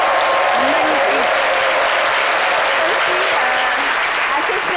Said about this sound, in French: On va faire un tournoi d'applaudissements pour Caroline Da Silva